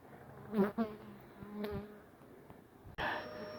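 Honeybees buzzing in short bursts as a hive is moved with a bee vacuum at a steam rally, faint and close with brief louder hums and a sharp clatter near the end.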